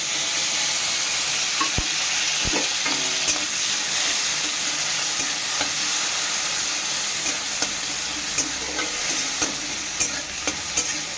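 Tomato sizzles and fries in hot mustard oil in a wok, a steady bright crackle with occasional scraping stirs and clicks.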